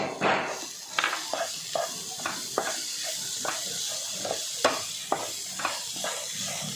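A bread roll filling seasoned with asafoetida and turmeric is sautéed in a pan, soft sizzling under repeated stirring taps and scrapes, fairly close.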